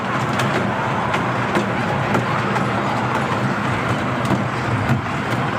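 A driverless park train runs at Gandhi Park in Lakhimpur with no battery, diesel or petrol, giving a steady rumbling roll close by with faint clicks along the way and no talk.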